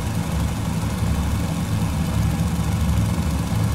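Steady low aircraft engine drone rises and settles into a continuous idle in Microsoft Flight Simulator, a Fokker F-VII at the field in Speyer, loud and even throughout with no talk.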